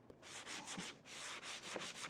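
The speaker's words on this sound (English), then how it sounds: "We're going to sand the top of this. This is a sanding sponge" Quiet, rhythmic back-and-forth rasping of a sanding sponge rubbed over a wooden tabletop being refinished, about eight short strokes in a row.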